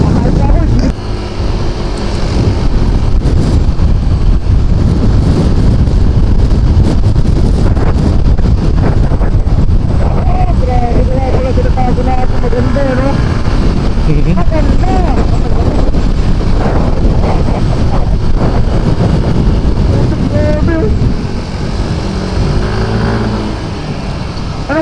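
Strong wind buffeting a microphone outdoors on a road trip, a loud constant roar with low rumble that never lets up, while voices talk faintly underneath.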